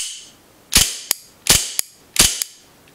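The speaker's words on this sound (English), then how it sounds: "You just pull this trigger, very light tap, not a long trigger pull at all, and your gun's shooting right there." An Elite Force 1911A1 Tac CO2 blowback airsoft pistol fires three sharp, loud, close cracks at an even pace, each followed right away by a lighter metallic snap from the slide cycling.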